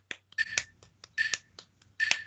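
Close, crisp hand clapping in a guitar lesson beats a pulse divided into three, with three dense clusters of quick claps separated by lighter single claps, clear and alone without voices.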